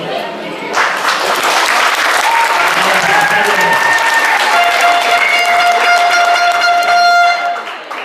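Loud, sustained applause from an audience filling a hall at a Paris event, steady clapping with crowd noise and some horn-like tones running for several seconds.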